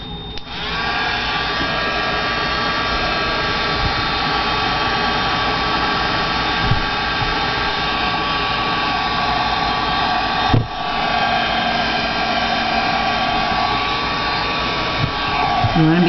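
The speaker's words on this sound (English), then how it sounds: "you only have to barely hit it with the your heat gun" A heat gun blows steadily, drying paint on a small rock paperweight, a continuous broadband whoosh with a faint tonal whine that stays near and even, with a short bump partway through.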